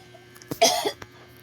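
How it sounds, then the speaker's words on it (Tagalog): A single short cough, fairly close and moderately loud, followed by a faint click against a quiet background. "May umuubo"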